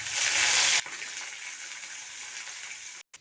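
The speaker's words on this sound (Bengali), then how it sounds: "তেলটা গরম হয়ে গেছে, এরপরে দিয়ে দেবো কালো সর্ষে, কেরিয়া পাতা, আর দেখুন এই যে ভিজিয়ে রেখেছিলাম ছোলার ডালটাকে দিয়ে দেবো" Black mustard seeds, curry leaves and soaked chana dal go into hot oil while tempering semolina upma, giving a loud, bright sizzling burst that settles into a steady, quieter crackling fry before stopping abruptly.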